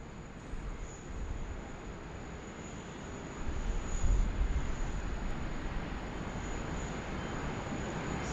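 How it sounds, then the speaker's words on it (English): Airliner taking off from runway 16 right at Sydney Airport on a sunny afternoon, heard as a steady broadband jet roar that swells and grows louder midway, continuous and fairly close. "958, runway 16 right, clear to take off"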